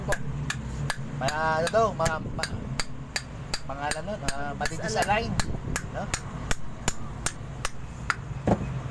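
An aluminum stator from an electric fan is struck over and over with a hammer, giving sharp metallic knocks at a steady, quick pace throughout while someone talks.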